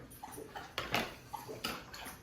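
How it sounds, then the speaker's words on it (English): A thirsty dog laps water from a bowl in a home kitchen, with a few quick wet splashy bursts close by and no voices. "And our dog is thirsty."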